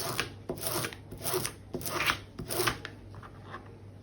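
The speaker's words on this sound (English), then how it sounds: "And again, just burnish that down. Make sure it's nicely adhered." Fabric is burnished down onto a journal cover with repeated close, dry rubbing strokes in a steady back-and-forth rhythm that fades out near the end.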